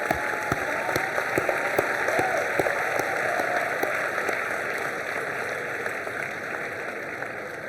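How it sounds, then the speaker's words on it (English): Sustained applause from a large audience at a university convocation ceremony in Ahmedabad, a dense, steady wash of clapping with a few sharper nearby claps standing out, continuous and fairly loud throughout. "let's give a round of applause to all these to express our gratitude to them"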